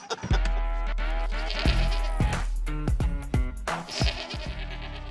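Goats bleat during a goat yoga session, with several loud, wavering calls overlapping one another close by, nearly continuous across the stretch.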